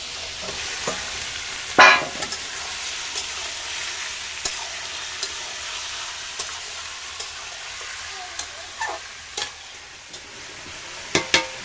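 Cut chicken meat tipped into onions already browned in a pan, giving a faint, steady sizzle with sparse clinks and stirring scrapes, plus a couple of louder knocks; no talking.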